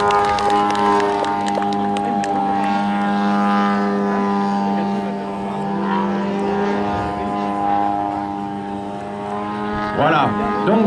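At a model aircraft meeting in Conches-en-Ouche, the engine of a radio-controlled plane gives a sustained, buzzing drone that shifts slowly in pitch as the aircraft flies past. A crowd murmurs in the background.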